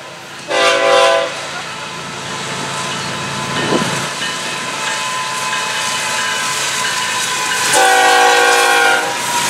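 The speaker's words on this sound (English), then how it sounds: "This train holding on the siding for FEC's 101" A Florida East Coast Railway freight train, locomotive 202, sounds two loud horn blasts near the start and end, with a steady rumble of rail cars rolling past close by in between.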